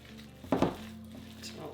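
Salmon fritter mixture with parmesan cheese being stirred in a bowl, a few soft clinks and scrapes of a utensil against the bowl, with faint voice in the background.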